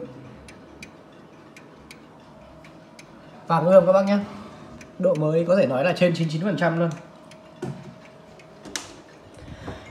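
An antique Odo 57/8 clock ticks steadily and faintly in a quiet room, its regular beats carrying on under and between someone speaking Vietnamese.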